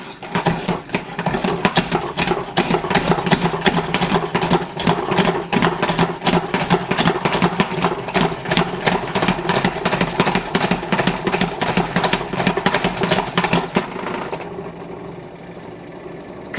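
Salad spinner whirring as it dries lettuce: a steady, fast rhythmic mechanical hum with rapid clicking pulses for about fourteen seconds, then slowing and fading as it winds down.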